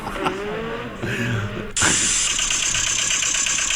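A voice imitates a car engine during a podcast, starting with a low, wavering idle and then jumping into a loud, harsh, sustained rev that holds to the end.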